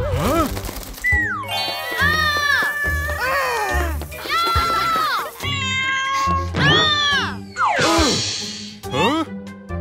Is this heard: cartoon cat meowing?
yes